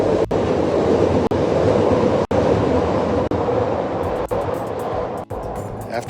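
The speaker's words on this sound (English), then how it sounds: "And here comes the L train going by" An L train rolls past a garage in a steady, loud roar, with regular clacks of the wheels over rail joints about once a second.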